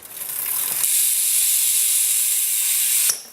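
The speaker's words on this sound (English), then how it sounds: "and the hub sounds like this" A BMX bike's Profile Mini rear hub buzzes loudly as the wheel freewheels, a fast continuous clicking hiss that holds steady for a few seconds before stopping abruptly.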